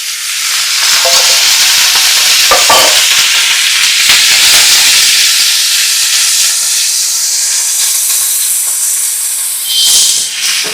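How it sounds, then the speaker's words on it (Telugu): Oil sizzles loudly in a pan while eggplant cooks for a chutney, a close, intense hissing roar with bursts of crackle and steam that holds steady throughout, without speech. "ఇప్పుడు 1 స్పూన్ ఆయిల్ వేద్దాం."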